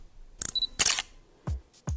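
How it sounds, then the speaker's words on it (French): Autofocus motor whirring and beeping on a single-lens reflex camera as the shutter button is half-pressed: two short mechanical bursts with a tonal beep, then two softer low thumps, close and clear with no talk. "Vous avez déjà entendu ce son quand vous appuyez à mi-course sur le déclencheur."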